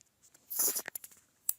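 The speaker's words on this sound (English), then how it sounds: "I'm going to type in my address." A short run of faint, scattered clicks and taps, like someone entering an address on a computer keyboard, with one brief cluster of keystrokes followed by a few isolated presses.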